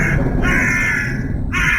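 A single crow caws loudly and close by in three harsh, drawn-out calls separated by short gaps, with no other sounds.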